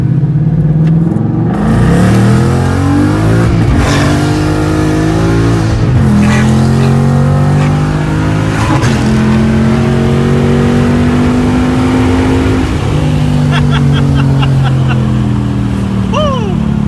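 A Ford Mustang fitted with a new exhaust accelerates through several rising gear pulls on a quiet street, its engine note loud and close from inside the car, climbing and dropping in pitch with each shift.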